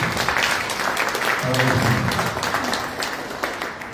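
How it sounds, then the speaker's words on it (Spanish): Applause from an audience at a Guarani language and culture event, a steady dense wash of clapping throughout, with a voice briefly speaking in the middle. "Un aplauso más para ellos, para los hijos."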